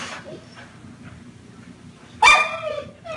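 Dogs bark nearby in a sharp, loud burst of a couple of barks after a quiet stretch, with faint whimpering around it.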